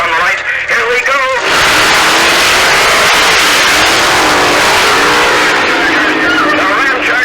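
Supercharged drag cars, a blown Hemi against the Ramchargers Dodge, launch and roar down the strip at Ubly Dragway in 1966, a loud, sustained engine blast with rising whine under an excited commentator's voice.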